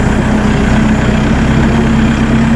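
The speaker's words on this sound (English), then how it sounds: "That's your front end pulling the tractor around." A Massey Ferguson 2850E Synchro Shuttle compact utility tractor with a 48.8 hp engine runs steadily close by, a loud continuous low drone with a constant tone and no voices.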